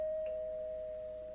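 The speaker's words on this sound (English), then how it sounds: "They need to start charging people to use that doorbell." A single doorbell chime rings out as a steady sustained tone in a television sitcom scene, fairly faint and slowly fading, with no talking over it.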